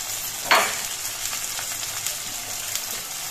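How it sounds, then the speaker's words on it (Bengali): Onion, green chili and garlic powder stir-frying in a pan, a steady crackling sizzle throughout with a sharp burst of hiss as the ingredients are stirred near the start, close and fairly quiet with no voices. "এবার এগুলো নাড়াচাড়া করে ভেজে নিতে হবে যাতে রসুনের কাঁচা গন্ধটা চলে যায়।"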